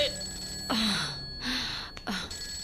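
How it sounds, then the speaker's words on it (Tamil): A telephone rings in a Tamil film scene, a few electronic tones with sweeping pitch glides, separated by short gaps, moderately loud and near, with no talking. "ஜேம்ஸ், அந்த போன் எடுத்து தொலைங்க. எவ்வளவு நேரமா அடிக்குது?"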